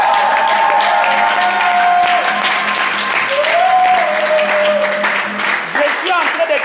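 A church audience claps and cheers loudly and continuously during a French-language service, a thick roar of hands and voices with sliding whoops and shouts rising above the crowd.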